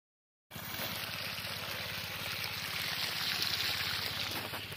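A 900W BLDC solar water pump fed by bifacial solar panels starts up and runs with a steady rushing hum and water flow, a continuous, moderately loud drone.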